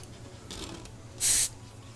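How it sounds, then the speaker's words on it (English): A short, loud burst of spray paint hisses for about a quarter second onto parts of a Tamiya Volvo FH12 1/14 scale RC truck kit, after a fainter brief spray and otherwise quiet surroundings. "so might as well spray these."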